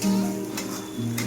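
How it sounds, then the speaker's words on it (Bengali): Spice paste of cloves, cardamom and a little cinnamon frying in a pan for potato dum, with a steady close sizzle and short scraping bursts as it is stirred. "মশলাটাকে ভেজে নিচ্ছি"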